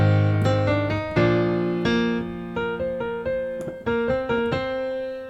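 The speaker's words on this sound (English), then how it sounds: "if I was to play this line on its own, without the pedal, it sounds like this." Piano right-hand melody line from a shanty, played without the sustain pedal: a steady run of distinct single notes over low held tones, each note decaying before the next, close and unaccompanied.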